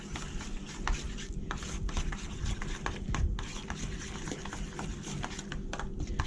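Eggplant lasagna filling being mixed with seasoning makes soft, irregular scraping and stirring clatter in a bowl, close and fairly quiet, with light taps scattered throughout.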